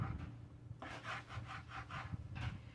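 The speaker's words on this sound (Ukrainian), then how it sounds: "Бачите, я як пиляю, я не давлю на нього пополам." A knife moistened with water saws back and forth through a homemade sushi roll, giving about five soft, rhythmic rasping strokes close up with no talk.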